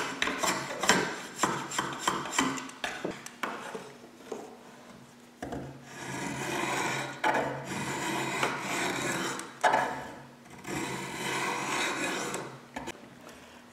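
Rasping, scraping strokes of a draw knife shaving wood on a mini bow, close and rhythmic at first, then longer continuous cuts with short pauses.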